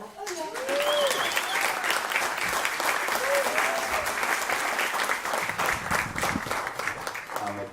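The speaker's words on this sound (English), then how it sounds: "Let's give a round of applause for Mr. Show" Sustained applause from an audience at a commencement ceremony for DreamWeek San Antonio, a dense steady wash of many hands with cheers and voices rising through it, including a few whoops.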